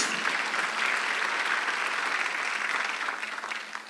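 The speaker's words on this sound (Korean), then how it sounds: "박수." A church congregation at a Sunday worship service bursts into sustained, dense applause filling the hall, holding steady for several seconds before slightly tapering.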